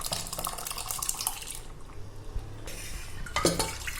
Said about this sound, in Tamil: இன்னும் கூட தண்ணி சேர்த்துக்கிறேங்க.